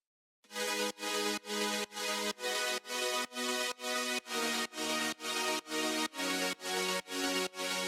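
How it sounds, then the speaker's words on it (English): Sustained progressive house synth chords chopped into a steady pulsing rhythm by a Gross Beat sawtooth-shaped volume gate, each beat swelling and cutting off sharply, repeating evenly. "To bring movement into them, add a grossbeat saw gate effect."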